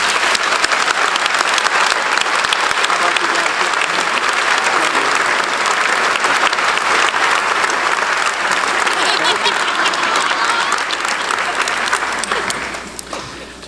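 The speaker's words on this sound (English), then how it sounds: "let's give them a round of applause" Sustained applause from a graduation audience at East Senior High School in West Seneca, a dense wash of clapping that holds steady for about twelve seconds before thinning out and fading at the end.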